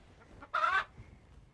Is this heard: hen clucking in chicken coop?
yes